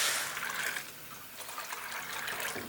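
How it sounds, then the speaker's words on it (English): Water pours into a deep skillet set on high heat for cooking black-eyed peas, a steady close trickle and splash running continuously throughout. "Add to a deep skillet on high heat and fill with water."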